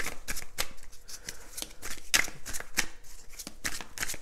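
Tarot cards being shuffled and drawn by hand, a quick run of crisp, close riffling flicks and slaps in an uneven rhythm, with no voices.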